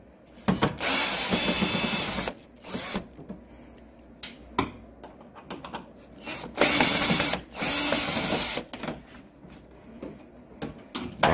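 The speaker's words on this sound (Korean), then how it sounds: "자, 이렇게 10mm 볼트를 하나 풀고, 그 다음 십자 드라이브 나사 두 개를 푸는 거예요" A tool loosens a 10mm bolt on a Victoria Nicky 125 scooter body cover, heard as loud, close whirring bursts of several seconds each with short pauses between them and no talking.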